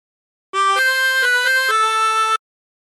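A harmonica plays a short melodic phrase of several reedy notes stepping up and down, clear and close, ending abruptly.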